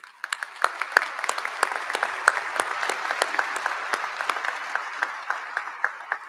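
Commencement audience applauding the faculty at a business school graduation ceremony, a steady wash of many hands clapping with sharp individual claps popping through, sustained and fairly close throughout.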